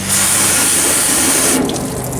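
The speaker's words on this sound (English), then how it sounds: "Let's rinse that off." Running water from a tap splashes steadily over a radio part being rinsed of brown mud, a close, continuous gush that shifts in tone near the end.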